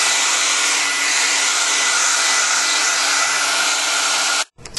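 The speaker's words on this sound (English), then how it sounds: "we're going to turn it on and just blow dry" A hairdryer blows on a watercolor painting to dry it: a loud, steady whoosh that runs unbroken, then cuts off abruptly near the end, leaving a few faint handling noises.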